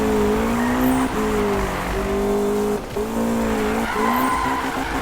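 A McLaren 570S in the Need for Speed racing game drifts with a continuous loud tire squeal over a roaring engine, the screech wavering and dipping briefly several times as the car slides.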